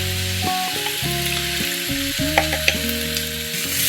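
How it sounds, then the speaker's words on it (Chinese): Fish-fragrant sauce hits a hot eggplant and green pepper stir-fry over medium-high heat, bursting into a continuous bright sizzle and hiss beneath melodic background music. "这个时候，咱们拌好的这个鱼香汁儿也可以倒进来了。"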